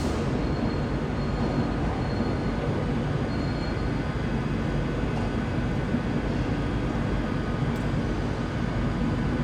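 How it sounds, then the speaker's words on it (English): Passenger train leaving Glasgow Central on the West Coast Main Line bound for London Euston, a steady close rumble of rail wagons with faint wheel squeal throughout, no voices. "There she goes to London Euston."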